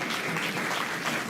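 Audience applause welcoming Munni Didi at an honour ceremony for doctors and guests, a steady dense clapping of a large crowd that fills the whole moment without pause.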